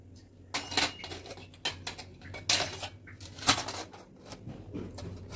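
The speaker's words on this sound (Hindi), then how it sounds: "तो यहाँ सारे पूजा के बर्तन मैंने धो लिए हैं।" Freshly washed metal puja utensils clatter and clink as they are handled and set down, with several sharp metallic knocks and rattles at irregular intervals, close by against a quiet room.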